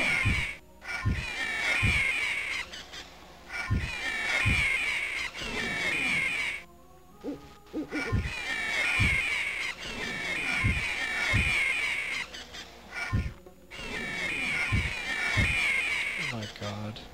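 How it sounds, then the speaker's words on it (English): A swarm of owls attacking in the video game Anvil of Dawn, harsh repeated screeching calls in bursts with sharp hit sounds between them. "Holy crap, tons of owls."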